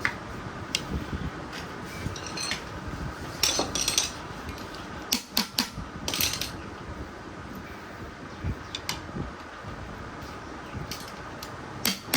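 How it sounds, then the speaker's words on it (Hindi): A screwdriver tightens the bolts on a Hero Splendor motorcycle engine during assembly. Metallic clinks and scraping taps repeat irregularly at close range over a steady noisy background, and no one speaks. "इसके आपने दोनों भी बोल्ट को अच्छी तरीके से टाइट कर देना है।"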